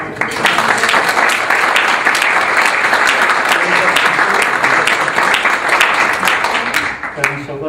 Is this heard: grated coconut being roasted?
no